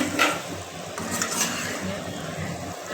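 Meat coated in spices is stirred in a hot pan, with a steady sizzle under scraping, clinking strokes of the spoon against the pan.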